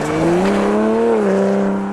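A car engine revs hard under full acceleration, a loud, close, smooth rising howl that holds briefly and then dips slightly.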